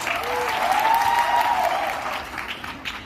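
An indoor audience applauding, a full steady burst of clapping throughout that gradually thins toward the end, with a faint voice in the background.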